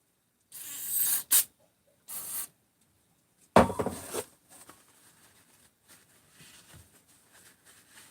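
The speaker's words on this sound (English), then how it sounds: "Brake cleaner." Brake cleaner hisses from an aerosol can onto Husqvarna 268 chainsaw parts in several short bursts, one loud close spray followed by a long fading trickle.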